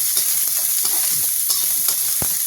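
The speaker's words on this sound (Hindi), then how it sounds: "ये देखिए अब इसको हम तड़कने देते हैं। जैसे ही तड़क जाएगा वैसे इसमें हम प्याज डाल देंगे।" Onion sizzling in hot oil with whole spices such as cloves, a tempering for buttermilk kadhi pakoda, with crackling and popping and a spoon stirring now and then, close and fairly loud with no talk.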